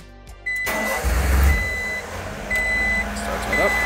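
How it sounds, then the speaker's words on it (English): A 1995 Honda Street van, a Japanese 4WD import, cranks and starts, its engine catching abruptly into a loud, steady idle with repeated intermittent beeps sounding over it. "we'll just start the engine to make sure everything circulates through and add any more as necessary"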